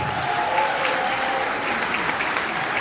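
A dense, steady wash of audience applause at a political speech fills the whole stretch, with no voice rising above it.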